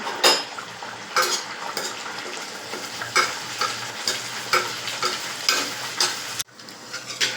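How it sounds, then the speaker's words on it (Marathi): Coconut puri frying in hot oil in a kadhai over a gas flame set low to medium, with a steady sizzle broken by repeated sharp metal scrapes and clinks of a ladle against the pan. "गॅसवर मी कढई ठेवली, त्यात तेल टाकले आणि आता ही पुरी त्याच्यात सोडते"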